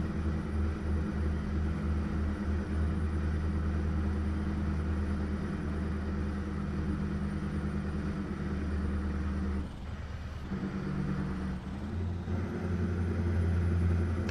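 A truck engine in Euro Truck Simulator 2 drones steadily under an automatic gearbox. The low hum holds for most of the run, then briefly dips and shifts before settling back to a constant moderate rumble.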